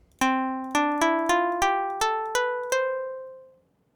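Seven plucked string notes from a Karplus-Strong physical modeling synthesizer in Caustic 3, struck in a steady rhythm, each bright attack decaying quickly, the pitch stepping gradually upward before ringing out and fading to silence.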